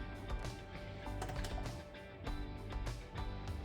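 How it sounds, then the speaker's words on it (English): A 12 mm socket ratchet loosens bolts on a 2009-2017 Toyota Corolla 1.8L 2ZR-FE engine during work on a stuck positive crankcase ventilation valve, making rapid, close, continuous clicking and ratcheting in uneven bursts with no talking. "use your 12 millimeter socket to remove 4 bolts"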